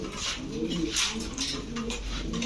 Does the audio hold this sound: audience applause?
no